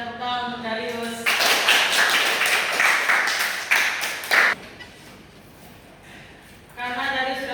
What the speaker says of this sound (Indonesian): Ya, tepuk tangan untuk Darius.